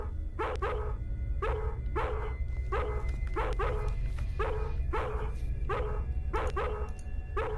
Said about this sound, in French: le bruit du chien c'était chiant